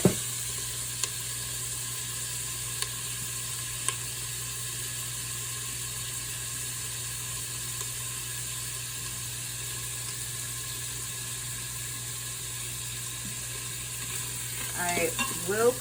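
Food browns in an Instant Pot for a low-sodium potato and red lentil soup, a faint steady sizzle with a few sharp clicks early on and stirring scrapes near the end.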